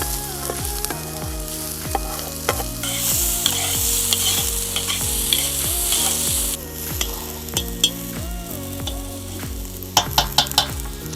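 Steady sizzling of onion frying in butter for Tuscan soup, with repeated stirring and scraping of a spoon in the pan, a few sharp clinks near the end.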